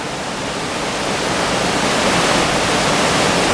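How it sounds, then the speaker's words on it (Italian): River rapids pour down a man-made waterfall cascade in Montella after the water returns, with the upper part falling in a cascade. A loud, dense, steady roar of rushing water fills the whole stretch. "è una rapida in evoluzione, con la parte alta in cascata"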